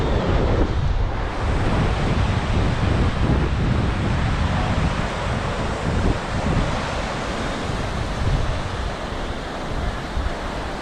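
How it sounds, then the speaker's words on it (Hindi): Flowing river water and wind in the mountains on the road to Gangotri, a loud, dense, continuous rushing roar with gusty buffeting against the microphone, no voices. "दूर दूर तक बहता हुआ पानी।"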